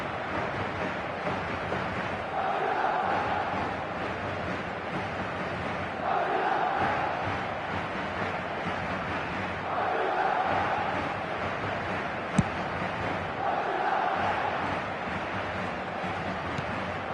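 Crowd roar from a football video game, a steady broadband wash of stadium noise that swells in rhythmic waves every few seconds, continuous and fairly loud throughout with no talk over it.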